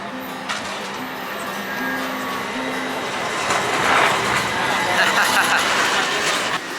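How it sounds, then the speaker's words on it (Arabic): Tram pulling into a stop in Istanbul, Turkey: a steady rumble that builds with rail clatter and a faint high squeal, heard from the platform amid ambient crowd noise. "والحين ترانواي، اسمه ترانواي، إنه قادم."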